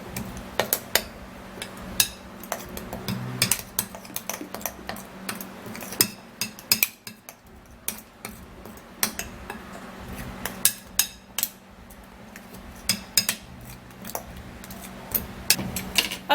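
Spoon or utensil clinking and scraping against a bowl while mixing a hair-dye preparation, light irregular taps and clatters at close range, steady throughout with no talk.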